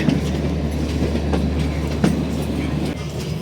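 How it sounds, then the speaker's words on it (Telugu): A toy train on the Kalka–Shimla mountain railway rumbles steadily along the rails departing Kalka station, with low engine drone and faint rhythmic clacks of wheels passing over joints. "5:45 అయితే మన ట్రైన్ని మూవ్ చేశారు స్టేషన్ నుంచి"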